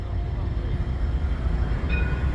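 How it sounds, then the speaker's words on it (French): Two coupled Alstom trams pull away together in formation toward Chalezeul, a deep continuous low rumble and motor whine close by, rising slightly as they depart. "Les deux tramways du Saint-Wagon qui partent à Chazol."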